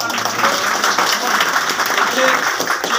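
An audience claps for election officers at a results announcement, steady applause that is fairly loud with voices mixed in underneath.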